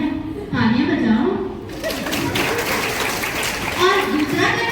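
Schoolchildren at a Teachers' Day celebration break into applause, a steady wash of clapping heard under a talking voice, with a bit of chuckling mixed in.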